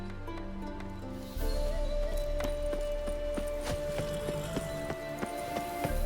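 Horse hooves galloping in The Witcher 3 video game, a steady rhythmic clip-clop of a mount picking up pace, fairly close and continuous, with a sustained musical tone running beneath.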